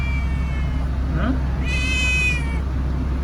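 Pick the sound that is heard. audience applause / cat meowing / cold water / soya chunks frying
cat meowing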